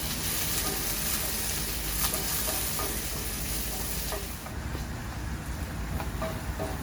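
Veggies and shrimp sizzle continuously in a hot pan as they are tossed, a dense close frying hiss with occasional clinks and stirring scrapes.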